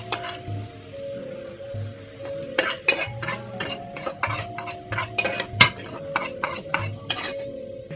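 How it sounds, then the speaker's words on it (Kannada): Ingredients for egg biryani frying in hot oil in a pan, a steady sizzle broken by frequent scraping and clinking of a metal spoon stirring against the pan, near and continuous, with no talk. "ಅಂದರೆ ನೋಡಿ ಇಷ್ಟು ಫ್ರೈ ಆಗ್ತಿದೆ"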